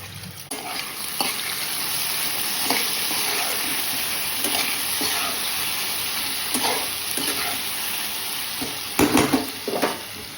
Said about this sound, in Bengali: জল ঝরিয়ে নেব।